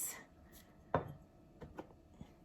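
Ingredients for healthy tamales are worked together in a bowl, giving a few soft, scattered scrapes and one sharper knock against a quiet background.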